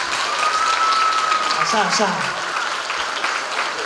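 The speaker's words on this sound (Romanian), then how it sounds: "Deci hai să aplaudăm părinții" Audience at a street dance competition applauding the children's parents, a steady wash of clapping from a crowd, overlaid by a voice speaking briefly and a rising tonal whistle-like sound early on.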